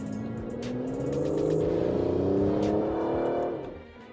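Aston Martin DB11 with a 5.2-litre twin-turbo V12 accelerating, a loud rising engine roar that builds steadily for a few seconds, then eases off toward the end, with no talk.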